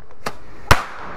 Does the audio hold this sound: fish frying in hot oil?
no